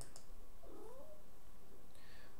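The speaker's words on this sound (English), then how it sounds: "I woke him up and he did a little meow" A cat, just woken, lets out one short, soft meow, quiet against a steady background hiss.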